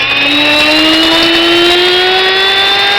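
Wondermill electric grain mill grinding grain, a loud, steady high-pitched motor whine with layered tones that creep slightly upward, running continuously throughout.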